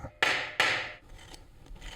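Two sharp, close rubbing or scraping strokes on a thin aluminum sheet strip about 1 mil thick as it is flattened by hand, each a bright brief swipe, followed by quieter faint handling noise.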